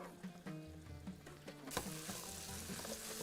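Margog stew stirred in a pot, a faint bubbling sizzle that thickens into a broad hiss partway through, with soft scrapes of a spoon, quiet and close, no voices.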